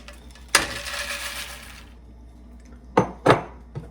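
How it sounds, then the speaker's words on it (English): Cheerios are tipped into a pan of melted butter in a short, rattling pour lasting over a second. After a pause come two sharp clinks of the pan and a lighter tap. "Now I'm going to add my Cheerios."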